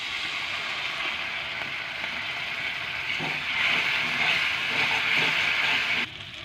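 Water splashed into hot spiced oil for a homestyle aloo dum hisses steadily in the pan, a broad close hiss that swells slightly midway and continues without talk.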